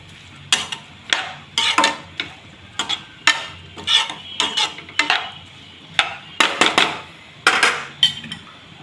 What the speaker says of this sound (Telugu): టమాటీ కూడా వేసుకున్న తర్వాత వేగాలండి.